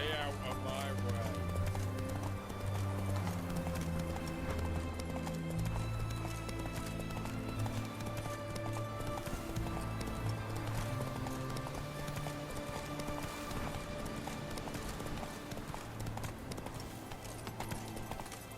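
Roach the horse gallops in The Witcher 3, steady rhythmic hoofbeats with occasional whinnies, close and continuous, under talk and game music.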